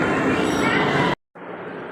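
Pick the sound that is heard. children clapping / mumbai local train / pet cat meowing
mumbai local train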